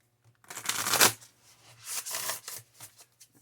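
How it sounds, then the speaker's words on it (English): Tarot cards shuffled close by: a long riffling burst, then several shorter, softer shuffles trailing off, with no talking. "Do one more little shuffle."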